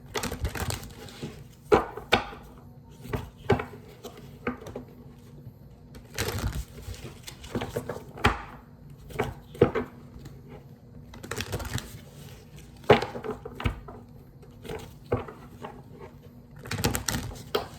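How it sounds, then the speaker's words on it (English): Tarot cards being shuffled by hand in repeated bursts of riffling and slapping. The deck sounds close and clear, with short quiet pauses between the shuffles and no talking. "let me do 4 shuffles again"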